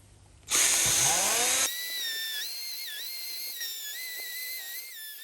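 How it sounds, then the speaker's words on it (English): A power tool grinds down the inside edge of a solid rubber tyre, opening with a loud harsh burst followed by a high whining tone that wavers in pitch as the load changes, with no one speaking. "I'm going to show you how to grind them down"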